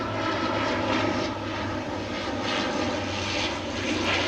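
A fixed-wing airplane passes overhead during an outdoor yoga session, its engine a loud, steady droning roar that swells slightly and fills the whole stretch without any talking.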